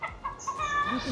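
Chickens on a rural Filipino farm give a few short, soft clucks and murmurs at close range, faint and brief.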